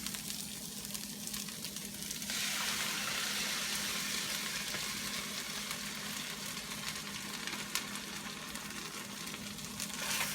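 Cooking sauce hits vegan lettuce wrap filling in a pan, setting off a loud, bright sizzle that jumps up after a quieter start and stays strong and continuous, with a small clink near the end.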